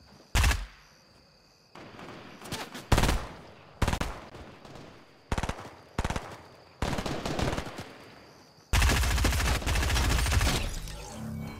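Video game gunfire crackles in a series of sharp, loud bursts, separated by short pauses, and ends in a longer sustained volley.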